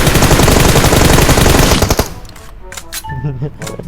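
Rapid automatic gunfire in the video game PUBG Mobile rattles loudly for about two seconds, then cuts off to quieter game sounds with a few faint clicks and soft voice.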